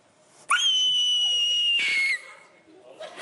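A person's voice imitates a Nazgûl scream from Lord of the Rings: a sudden, piercing, shrill shriek held steady for over a second, then dropping to a lower wail before fading, close and loud.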